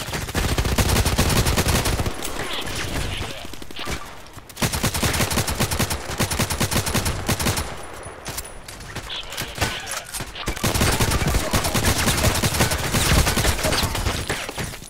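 Sustained automatic gunfire in the online shooter Contract Wars. Rapid, dense bursts of shots run in long stretches, broken by brief pauses, loud and close throughout.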